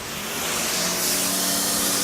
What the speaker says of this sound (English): Spray it down, hit the windshield, windows